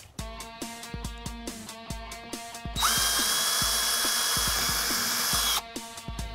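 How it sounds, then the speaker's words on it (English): A power drill bores pilot holes through the body panel of a 2010-2014 Ford Mustang while fitting a Roush side skirt and rear splitter, a steady loud whine lasting about three seconds between lighter tapping and clicking. "you can drill pilot holes in the center of each bullseye"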